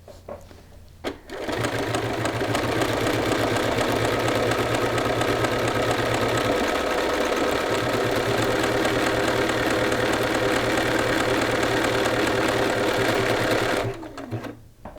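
A sewing machine runs steadily for about twelve seconds as it stitches a buttonhole, its motor humming with a fast, even needle rhythm up close, starting and stopping cleanly.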